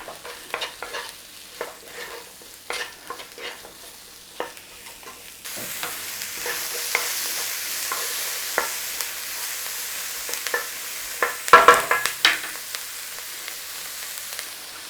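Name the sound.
onions cooking in a pan with salt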